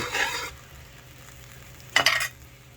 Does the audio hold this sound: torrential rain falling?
no